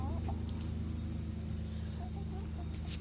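Backyard chickens cluck softly over a steady low hum, with a few brief bird calls and faint rustling. No one speaks.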